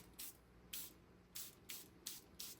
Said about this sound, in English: Make sure I'm spraying it the right direction.